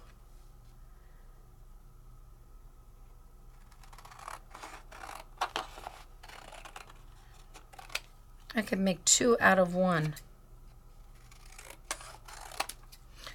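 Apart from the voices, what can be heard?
scissors cutting paper freehand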